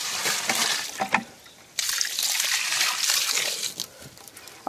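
Water poured from a bucket onto leaves in a worm bin, a loose splashing gush that breaks off briefly then resumes, close and steady, with no talking.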